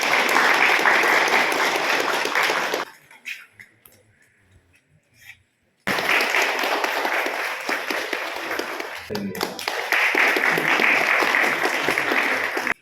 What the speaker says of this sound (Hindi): आइए हम जोरदार तालियों का स्वागत करें